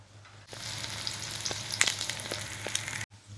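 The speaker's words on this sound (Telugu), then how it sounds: "యాలకులు వేసేసి కొంచెం దీన్ని ట్రాన్స్పరెంట్గా ఫ్రై చేసుకుందాం ఫస్ట్." Onions with coconut and cardamom frying in a pan, a steady close hiss and sizzle with a few soft stirring clinks, starting and stopping abruptly, no talking.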